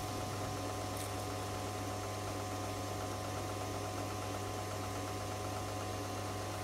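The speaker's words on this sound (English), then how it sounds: "I'll dome over the end using some abrasive paper." A constant machine hum with a steady motor drone, with a continuous gritty hiss of abrasive paper doming the end of a spinning end mill shank beneath it.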